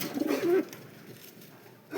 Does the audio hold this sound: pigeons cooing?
yes